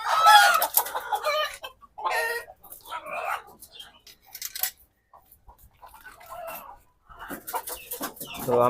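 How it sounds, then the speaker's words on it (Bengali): Free-range desi hen clucking repeatedly in short bursts outdoors, with other chicken calls and a rooster-like crow mixed in, fairly close and loud with brief quiet gaps. "তো আমরা আমাদের ওই মুরগিটাকে আলাদা করে বাইরে ছেড়ে দিলাম"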